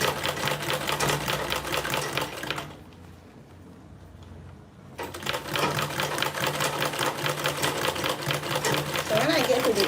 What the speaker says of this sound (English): So I'm basically sewing on that line that I marked out